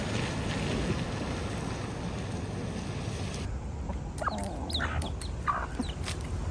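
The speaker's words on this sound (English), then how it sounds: "now you can see why those chickens are so aggressive" Chickens cluck in short, scattered bursts outdoors, with strong wind rushing in the first half before the clucks stand out more clearly toward the end.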